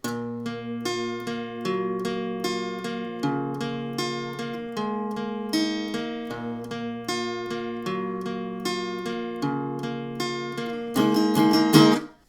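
Acoustic guitar plays the closing section of a song, picked and strummed chords ringing out clearly in a steady rhythm, ending with a brighter flurry of strums and a quick cutoff, no voices.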